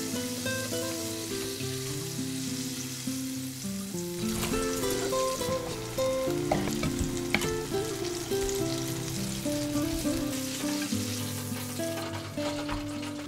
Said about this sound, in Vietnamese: Gà chiên ngập trong dầu nhìn hấp dẫn